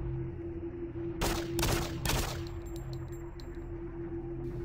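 Pistol fire in Doom 3, with three loud, closely spaced gunshots followed by a series of faint, light metallic clinks like ejected brass hitting the floor, with no voices.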